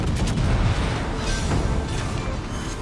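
Deep booming blasts and rumbling explosions from a naval battle in World of Warships: Legends as an enemy battleship is destroyed, with a dense, continuous roar of heavy gunfire and impacts.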